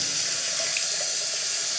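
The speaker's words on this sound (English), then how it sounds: "Now I get to turn this, open the plug, and see whether water comes out." Water streams steadily from a newly installed bathroom vanity faucet in a mobile home, a constant close hiss of flow into the sink with no voices.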